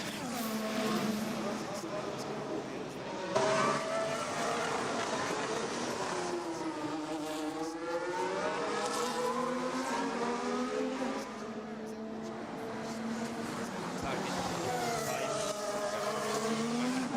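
Onboard a Formula 1 car during a 2022 Singapore Grand Prix practice lap, the engine screams through repeated rising gear-change sweeps and lifts, loud and continuous, with a commentator's voice faintly underneath.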